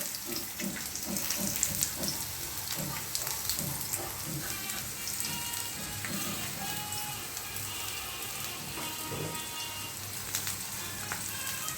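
Julienned onions frying in a pan for vegetable chowmein, a dense, continuous close sizzle with a few soft clatters near the beginning and no voices.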